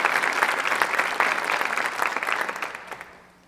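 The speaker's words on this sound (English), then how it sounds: "Let's give all of them a round of applause." Applause from an audience at a high school honor society induction ceremony, a sustained wash of clapping that starts loud and fades out near the end.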